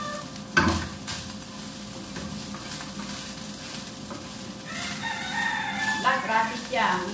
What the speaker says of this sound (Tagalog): Ingay ng chicken ko ah.